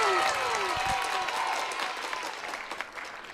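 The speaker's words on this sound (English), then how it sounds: "Round of applause for us." A short burst of applause follows a beatbox challenge, dense clapping with some sliding tones over it, fading slightly toward the end.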